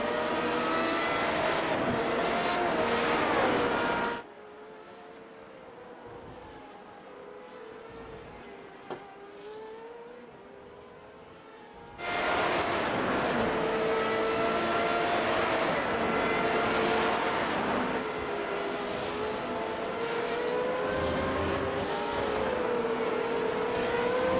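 Formula Renault 3.5 race cars at Circuit Gilles Villeneuve, their engines whining loud and high as they pass, dropping to a quieter, more distant stretch in the middle before the loud engine noise returns.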